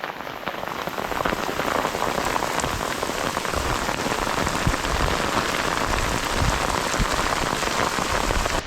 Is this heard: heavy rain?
yes